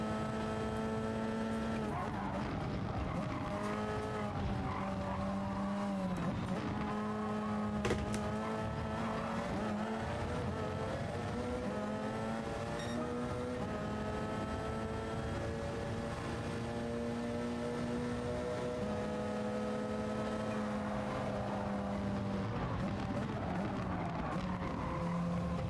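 Race cars run side by side approaching a chicane at Le Mans in GT Sport, engines holding a steady loud drone with rising and falling pitch throughout.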